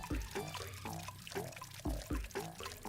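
Liquid pours in the video game Goosebumps: Dead of Night, a faint, steady watery trickle with repeating gurgling glugs at a regular rhythm and no talk.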